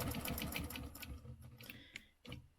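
A sewing machine stitches a zigzag stencil pattern in short bursts, its rapid needle clatter stopping and starting close by with brief pauses between runs.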